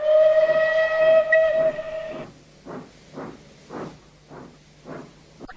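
On a railway, a steam whistle sounds a long sustained blast, then the engine chuffs in slow, even puffs, five or six steam exhausts that repeat at a moderate pace with no talk.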